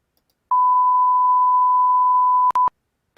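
A 1 kHz sine test tone played back at a 96 kHz sampling rate: a clean, steady pure beep lasting about two seconds, followed by a brief click and short repeat before cutting to silence.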